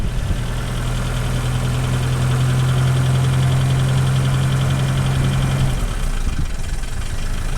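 Toyota 22RE engine from a 1993 pickup, fresh from an oil change, idles steadily with a low drone and faint ticking, close and continuous, cutting to a quieter rumble near the end.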